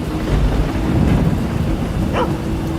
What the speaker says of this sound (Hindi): क्या खतरनाक तूफान था यार